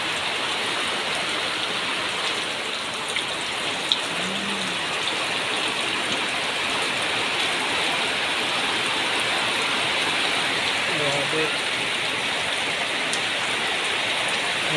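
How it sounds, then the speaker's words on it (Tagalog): Heavy rain pours down in a steady, dense hiss that holds unbroken for the whole stretch, close and loud, with no voices. "Malakas ang ulan."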